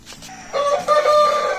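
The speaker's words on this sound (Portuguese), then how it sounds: "Aqui nós temos as outras aves, aí o outro galo." Índio Gigante rooster crowing close by, a loud sustained call rising after a brief lead-in and holding strongly for over a second, with no talk over it.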